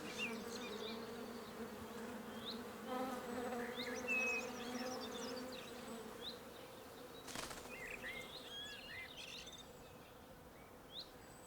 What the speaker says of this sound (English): every flower is being attended to by a bee. So the whole tree is humming.